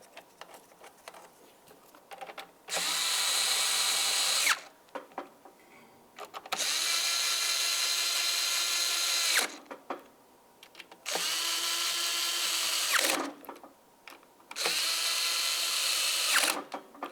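A power tool runs down the four throttle body mounting bolts on a 2010-2013 Ford Transit Connect intake, four separate whirring bursts of a couple of seconds each with quiet gaps and clicks between, close and loud.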